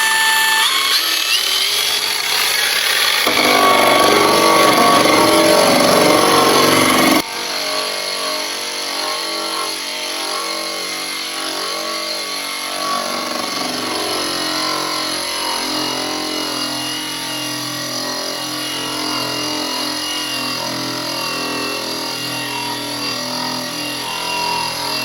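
HERCULES 20V cordless surface conditioning tool spinning against a surface to strip it, a loud high motor whine with grinding abrasion that shifts in pitch and then drops to a steadier, quieter running hum.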